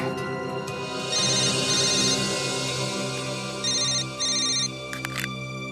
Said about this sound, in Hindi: यार जब भी सीरियस डिस्कशन होता है तेरा फोन आता है